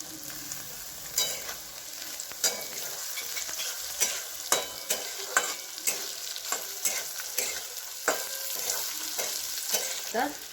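Batata poha with boiled potatoes, turmeric and tomato frying in a pan, with a soft continuous sizzle broken by repeated scraping stirs of a spoon, heard up close with no voices.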